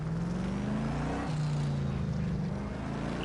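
Bentley car engine in the racing game Gran Turismo 7, a steady droning hum with a brief pitch dip and recovery as the car revs while reversing, continuous and fairly loud, with no talking.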